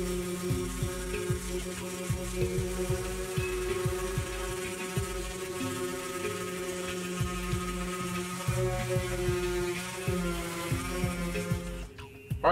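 A 5-inch electric sander hums and throbs continuously at moderate volume while sanding a fiberglass rear panel repair on a CJ7, with a steady motor drone and irregular low pulses throughout.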